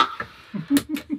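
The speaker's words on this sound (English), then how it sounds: "if you have the talk box then, then it sounds like this" A voice shaped through a talk box, with vowel-like, mouth-filtered tones and breathy hiss in short bursts, close and fairly quiet.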